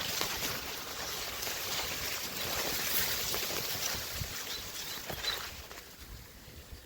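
Irrigation water flows into a millet field in an Indian village, a steady broadband rush and trickle that holds at an even level throughout, with no voices over it.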